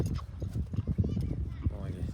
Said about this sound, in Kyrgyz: Кичине ордунан кой берип, оңго солго буруп, чапкылап көрсөтчү жээним